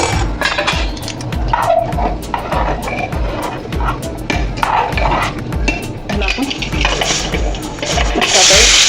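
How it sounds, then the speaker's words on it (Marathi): Boiled water is poured steadily into a pressure cooker holding rice for a village-style mixed chicken biryani, a continuous close splashing and gurgling with a clattering of metal pot sounds. "आता आपण टाकूया पाणी"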